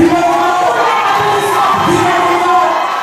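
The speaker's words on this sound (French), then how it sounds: "Je vous demande d'applaudir très très fort, s'il vous plaît" A crowd at the opening ceremony of the Miss Côte d'Ivoire France 2015 pageant, cheering and applauding loudly and continuously, with shouts and whoops over the clapping.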